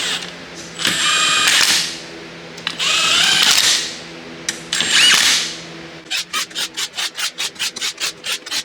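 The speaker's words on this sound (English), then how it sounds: "we used the impact gun and we drove all these down" An impact gun runs down lug nuts on a Jeep's new beadlock wheels: three long, loud whirring runs close up, then a rapid string of sharp hammering bursts as a nut is driven tight.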